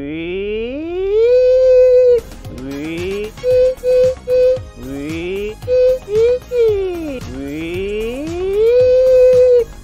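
A voice imitates a revving rally car engine, rising vocal whines between quick bursts of shifting tones, loud and close, repeated several times.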